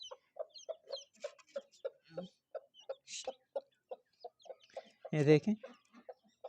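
An agitated hen clucks in short repeated calls near her newly hatched chicks in a village-style yard in a city, with a louder squawk near the end and a person briefly speaking.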